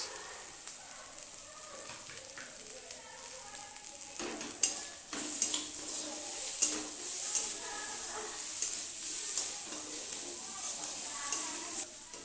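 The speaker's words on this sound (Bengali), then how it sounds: "পেঁয়াজটা ভাজা হয়ে গেছে" Chopped onion frying in oil in a pan after garlic and ginger for a small prawn curry: a steady close sizzle with light stirring scrapes throughout, slightly louder in the second half, with no talking.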